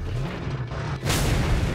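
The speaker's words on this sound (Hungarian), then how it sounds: "Robbant egyet." A loud explosion in the Mad Max video game bursts out about a second in, its broadband blast swelling over a continuous low rumble of game engine and background noise, with no one speaking.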